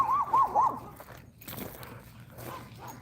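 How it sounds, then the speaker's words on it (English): A dog comes closer, giving a few excited high whines and yips up close at the start, then quieter movement and soft whimpers over faint background noise. "Another dog coming here."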